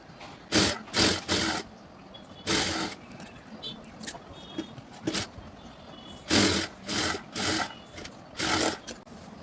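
A sewing machine stitches a cross piece onto a blouse seam in several short bursts of fast, whirring runs, with pauses and a few small clicks between them, close by.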